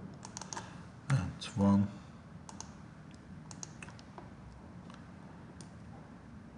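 Clicks of keystrokes on a computer keyboard during CNC spot drilling programming, sparse taps with two louder thumps, under quiet speech.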